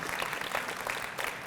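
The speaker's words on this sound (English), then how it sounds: "let's just give a round of applause to the parents again" Audience applause for parents at a youth graduation and scholarship ceremony, a moderate, continuous patter of many hands clapping with no talking over it.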